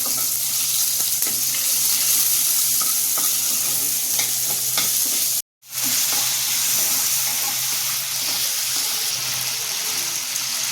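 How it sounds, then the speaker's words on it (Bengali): Chopped onion and cumin paste frying in hot oil in a pan for dal, a loud, steady, close sizzle with light stirring that cuts out for a moment midway, then resumes with no talking. "মশলা ভাজা হয়ে গেছে, এবার ডাল দিয়ে দিলাম।"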